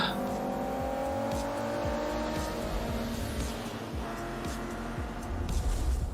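Race cars in the Forza Motorsport video game roar past with a steady, droning engine note that rises and falls in pitch, a continuous moderately loud racing sound with no pauses.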